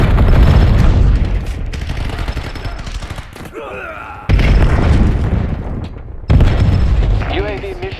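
A frag grenade going off in Black Ops 7 multiplayer, loud booming blasts mixed with dense gunfire, and game radio voices speaking over the action.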